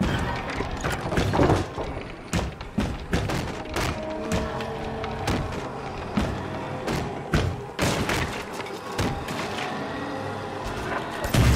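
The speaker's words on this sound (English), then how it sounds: "Oh, the shotgun." A hunter's shotgun in the video game Little Nightmares 2 booms through a series of heavy thudding impacts and crashes, loud and close, with dense game audio between the blasts.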